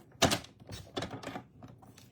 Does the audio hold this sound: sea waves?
no